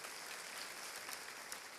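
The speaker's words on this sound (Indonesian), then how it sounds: "Wah, tepuk tangan sama Tuhan Yesus." Church congregation applauding for Jesus during an evangelist's sermon, a steady wash of many hands clapping, moderately loud and continuous for a couple of seconds.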